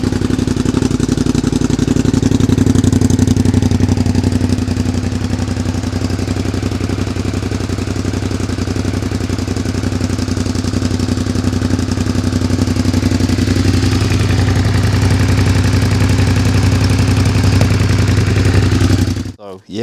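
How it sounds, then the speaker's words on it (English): A Suzuki SV650S motorcycle engine runs steadily for nearly twenty seconds, a loud, close, even idle with a constant low throb and no change in pace, cutting off abruptly at the end. "So yeah, we got the bike running."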